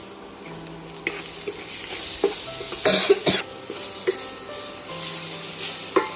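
Green chillies sautéing in a pan for kheema cutlet, a soft continuous sizzle with occasional utensil scrapes and knocks against the pan, close, no talk.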